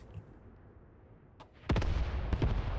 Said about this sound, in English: MG 38, here we go. Engaging at them in the tree line